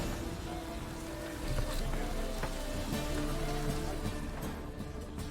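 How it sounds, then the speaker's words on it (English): Rain falls in The Witcher 3 game world, a continuous soft hiss with faint scattered drops, swelling slightly midway and fading near the end, with no speech. "Looks like rain."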